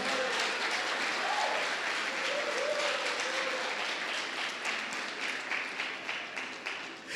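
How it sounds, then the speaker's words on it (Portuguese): A church congregation gives sustained applause, the broad wash of clapping holding steady and then breaking into more distinct, rhythmic claps as it fades toward the end. "Você pode aplaudir a Jesus por isso?"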